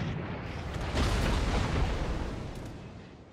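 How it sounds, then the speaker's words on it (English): Naval guns firing in the World of Warships video game, a heavy booming salvo with a deep rumbling roll that swells and slowly decays, loud and alone. "Continuous fire on Jerry."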